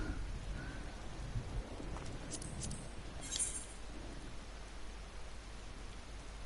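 Steady rain falling in the video game Final Fantasy XIV, a continuous hissing wash of drops with a few faint brief chimes over it, heard alone without voices.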